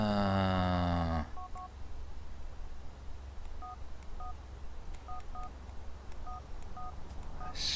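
A mobile phone in the GTA IV video game dials a call, with short electronic keypad tones sounding in separate pairs across several seconds after a brief burst of louder music, faint hiss underneath.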